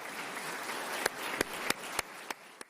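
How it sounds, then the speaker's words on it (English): An audience applauds during a governor's State of the State address in Ohio, a broad wash of continuous clapping from a large room, with a few louder individual claps standing out near the microphone. "Give her a round of applause."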